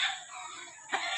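Chickens on a farm cluck and squawk faintly in a short burst, with a slightly louder call near the end.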